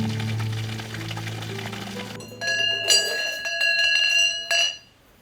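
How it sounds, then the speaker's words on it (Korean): A temple wind bell (punggyeong) at Mihwangsa, a quiet mountain temple, rings with bright sustained metallic tones in several clustered strikes that ring out and fade, following a low hum at the start. "고요한 산사에 울려 퍼지는 청아한 풍경 소리가 마음을 이끕니다"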